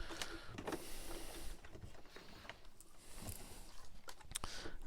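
A domestic sewing machine stitching a corner pocket, running in quick mechanical bursts with brief pauses, close and fairly quiet with no talking.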